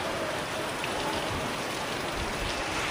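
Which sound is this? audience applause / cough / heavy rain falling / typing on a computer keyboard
heavy rain falling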